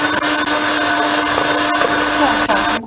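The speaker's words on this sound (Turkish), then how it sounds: "Yüksek ayarda çırpıyorum arkadaşlar." An electric mixer whisks a dessert mixture with cold milk on its high setting, giving a loud, steady whirring drone that runs unbroken for about three seconds before cutting off abruptly.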